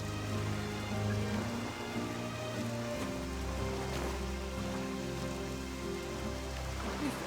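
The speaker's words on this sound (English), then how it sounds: "You are our only hope of saving people from this foul rain." Steady rain falling in the video game Octopath Traveler 2, a constant dense patter with no voices.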